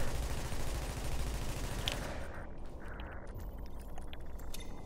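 Rapid in-game gunfire from a Tom Clancy's The Division 2 support build, dense bursts of shots running through the first two seconds and then thinning into scattered clinks and impacts.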